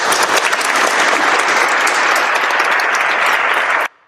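Loud, dense crowd applause as a stock sound effect, a thick uniform wash of many hands clapping that holds steady for nearly four seconds and then cuts off abruptly into silence.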